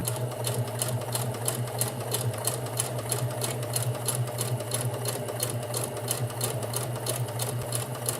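A sewing machine runs steadily while sewing straight lines, a fast continuous even stitching rhythm held close and alone for several seconds.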